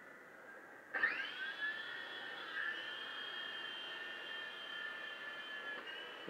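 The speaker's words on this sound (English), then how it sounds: "Good little helicopter." Small Syma S39 Raptor toy helicopter flying indoors, a steady high-pitched motor and rotor whine that spins up sharply at the start and holds a constant droning tone close by, with no talking.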